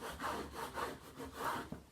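Vinyl being rubbed smooth by hand onto a canvas for a Christmas craft, heard as a soft, steady scraping in repeated strokes, about four rhythmic passes, close and quiet with no talking.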